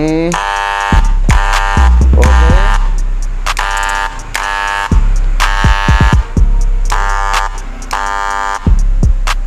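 A faulty electric hair clipper drones with loud, harsh buzzing in repeated bursts, cutting in and out over several seconds, with a brief spoken word in between.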